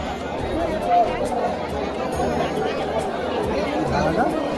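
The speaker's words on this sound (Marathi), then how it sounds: "जास्त प्रमाणात गर्दी आहे इथे" Continuous hubbub from a large crowd gathered at a village Datta Jayanti festival, with voices close and far blending into one steady wash while a nearby person speaks over it.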